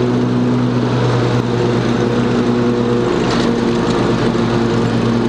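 A John Deere riding lawn mower runs at steady throttle while mowing a yard, a loud constant engine hum with a strong droning tone, close by and without talk.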